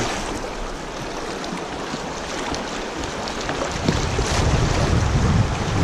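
River water rushing and splashing around a kayak on the Lower Salt River, steady broadband wash with wind buffeting the microphone, growing louder and more turbulent toward the end.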